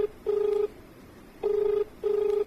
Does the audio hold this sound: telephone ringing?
yes